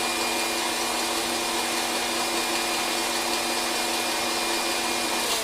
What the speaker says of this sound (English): so you don't hear the mixer on all night